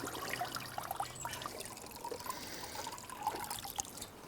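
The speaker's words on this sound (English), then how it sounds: "Okay, I like to drain some water off." Water trickles and pours as it drains from a Gosvor LiteVac G1 robotic pool vacuum, a quiet, close, uneven dribble with small splashes and drips.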